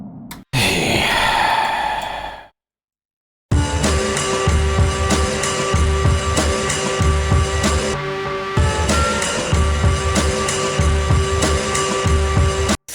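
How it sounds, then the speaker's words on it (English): A drone played on a Korg Monotron synthesizer: a sustained, steady buzzing tone with a fixed pitch, loud and alone, running continuously after a brief breathy noise and a short gap of silence. "we're not making a beat, we're making a drone song instead"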